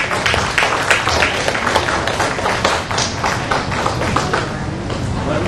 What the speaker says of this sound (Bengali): সবাই একটু ক্ল্যাপিং হোক